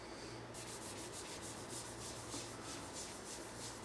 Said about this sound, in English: Just wipe it on, buff it off.